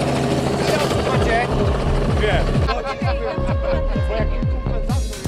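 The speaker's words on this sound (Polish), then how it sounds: "a my zabieramy Was do helikoptera i lecimy Wam pokazać to z góry" Close helicopter at a Polish drifting championship event with rapid rhythmic rotor thumping, loud and steady, with voices talking over it early on.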